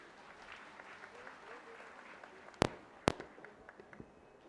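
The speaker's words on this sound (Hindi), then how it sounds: "जोरदार तालियों के साथ स्वागत करें।" Faint, scattered clapping from the crowd at the opening ceremony of the national-level winter carnival in Manali, broken by two sharp, loud bangs, with murmuring voices in the background.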